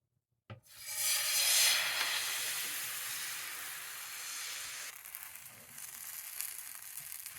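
Katmi pancake batter sizzling in a hot pan for a Thracian chicken-and-katmi dish, a sudden loud hiss at the start that settles into a steady, close frying crackle, easing slightly later on, with no talking.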